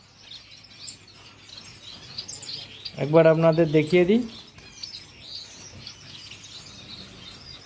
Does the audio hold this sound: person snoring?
no